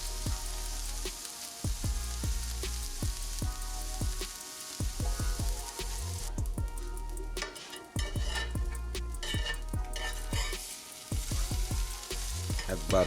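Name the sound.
asparagus sizzling on a griddle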